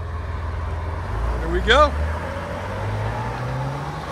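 A Ford F-Series truck with a 5.4L Triton V8 and a Maserati custom exhaust gives one short, loud rev that rises and falls over a low idle rumble, with a brief spoken remark.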